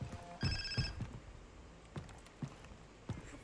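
Telephone ringing in the video game Far Cry 3, a short electronic ring burst near the start followed by a few soft clicks and thuds, fairly faint.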